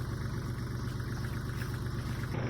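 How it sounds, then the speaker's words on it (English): A tractor engine running at a steady idle, a continuous low rumble that stays even and fairly close with no other sounds over it. "I'm gonna come in here with the tractor and the brush hog now."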